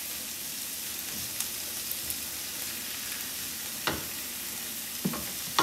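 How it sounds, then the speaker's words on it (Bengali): Onion frying in a pan for a home chicken patties recipe, giving an even, close hiss of sizzling with a few light clicks of a utensil and no talking. "এখন আমার পেঁয়াজটা ভাজা হয়ে গেছে,"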